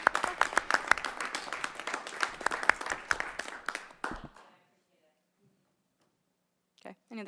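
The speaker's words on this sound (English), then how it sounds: "missed her round of applause for Minithon" Brisk applause from attendees at a school board meeting, a burst of claps with voices under it that stops abruptly, followed by silence and a short voice at the end.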